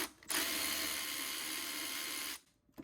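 A powered driver loosening the 8 mm worm-clamp screw on a Jeep Gladiator engine air filter housing whirs steadily and closely for about two seconds, then stops, with no voices.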